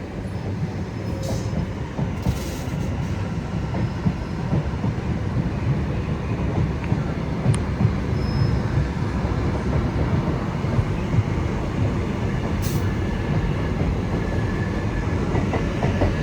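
South Western Railway class 701 electric train pulls into Clapham Junction, a steady low rumble with rhythmic wheel clicks over rail joints and a few brief squeals, heard close with some wind noise.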